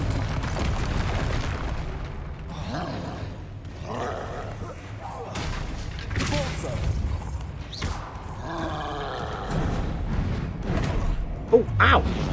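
A Confringo fire spell goes off in Hogwarts Legacy, giving booming blasts and thuds among busy in-game clatter, with a voice talking over the action.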